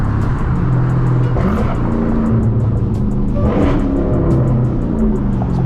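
A Dodge Hellcat SRT Redeye cruises along with a deep, rumbling engine drone that swells briefly under light throttle, loud and continuous with steady road noise.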